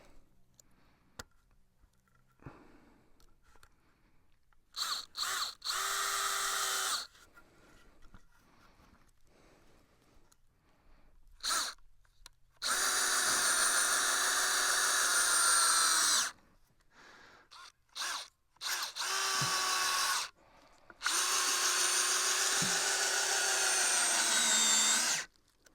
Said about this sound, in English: I'm just using some basic 3-inch deck screws here